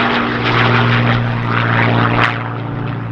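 A Hawker Hurricane Mark 1 fighter, a restored Battle of Britain veteran, flies at the RAF Cosford airshow. Its piston engine drones loud and steady, then eases off slightly as the aircraft passes.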